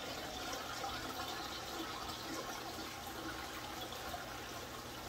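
Water pours steadily into a home fish tank during a routine water change, a continuous broadband gushing and splashing that holds at an even level for several seconds with no talk.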